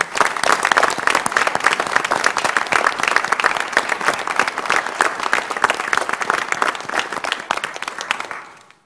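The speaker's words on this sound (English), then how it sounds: "let's give a round warm of applause to Chancellor Gow and his staff for all of their great hospitality" Audience at a UW System Board of Regents meeting gives sustained applause, a dense, steady wash of many hands clapping at close range that carries on for several seconds before tapering off at the end.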